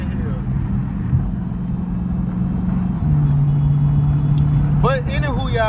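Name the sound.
Dodge Hellcat car engine while driving and shifting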